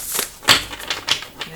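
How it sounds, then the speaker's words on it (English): Tarot cards being shuffled, heard as a few quick, crisp riffling bursts close up, separated by brief pauses. "I'm going to shuffle the cards again."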